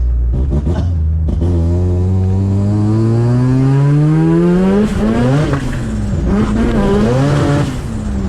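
A loud 13B turbo rotary engine in a Mazda 1300 coupe accelerates hard, its pitch climbing steadily, then briefly dropping at gear changes before rising again close by.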